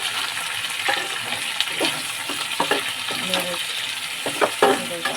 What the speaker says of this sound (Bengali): এবার আমি চিংড়ি মাছগুলোকে দিয়ে দিলাম